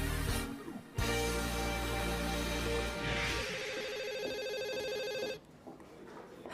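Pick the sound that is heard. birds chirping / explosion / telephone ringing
telephone ringing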